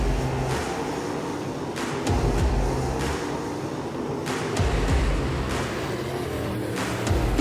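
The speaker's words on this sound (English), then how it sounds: "Austin Becerra will lead him off of turn number 2 down the back straightaway." Dirt-track race cars at the IMCA Super Nationals roar past with engines droning and surging in waves, rising and fading as cars pass, with no talking.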